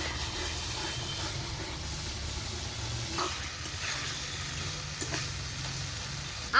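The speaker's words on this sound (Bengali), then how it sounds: "এখন ভালোভাবে সব মশলা একসাথে কষিয়ে নিচ্ছি" Spice paste with ground spices and a splash of water frying in a pan, a moderate steady sizzle with occasional sharper taps and scrapes as it is stirred.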